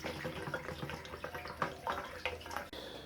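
Methylated spirit poured from a bottle into the fuel tank of a Honda CB350 motorcycle, a continuous gurgling, trickling pour with splashy pulses inside the metal tank, close and without speech.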